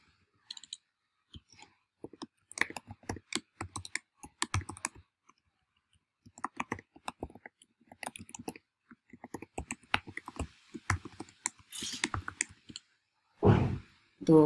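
Code being typed on a computer keyboard during a WordPress AJAX tutorial: close, crisp key clicks in irregular bursts with short pauses, then a brief breathy sound near the end.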